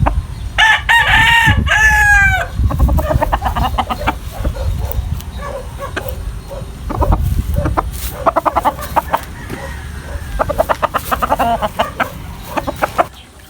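Chickens and roosters at a poultry farm crow loudly and cluck throughout, with one strong crow near the start and scattered clucks and calls continuing alone without talk.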